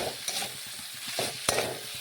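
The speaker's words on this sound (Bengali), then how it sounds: "এখন আমি দিয়ে দিলাম কিছুটা টমেটো কুচি। এটাও ভালোভাবে নাড়াচাড়া করে মিশিয়ে নিচ্ছি।" Chopped tomato stirred with potato and carrot in a pan, a soft sizzle under a few scraping spoon strokes and one sharp clack against the pan, close and fairly quiet.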